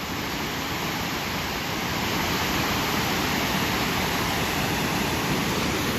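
Willow River Falls in Wisconsin pours over high cliffs and runs on as a river, a loud, unbroken broadband roar of rushing water heard close with no voices over it.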